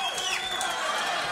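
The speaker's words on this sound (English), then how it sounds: "we're gonna let the clapping stop" A podcast studio audience claps in a dense, steady wash of applause with some crowd noise, filling the room evenly from start to finish.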